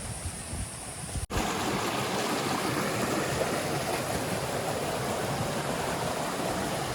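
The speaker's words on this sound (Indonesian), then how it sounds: "Nah ini ada aliran air teman-teman, bersih." A clean mountain stream rushes continuously in a steady, loud wash, broken briefly by a sharp dropout near the start before the flow resumes.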